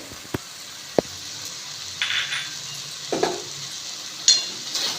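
Banana flower seasoned with salt and sugar is stir-fried with potato in a pan, heard as scattered scrapes and knocks of the spatula with a couple of sharp taps over a quiet sizzle, close by and intermittent.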